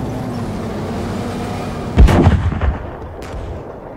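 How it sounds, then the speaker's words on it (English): A tank taking incoming fire in the PC game Gunner, HEAT, PC!: a low engine rumble is broken by a heavy, booming impact followed by a few rattling thuds that fade out. "Oh, taking fire."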